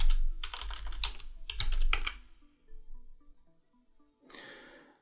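Rapid clicking keystrokes on a computer keyboard in two quick bursts, close and crisp, followed by a pause and a softer scrape or sigh-like rustle at the end.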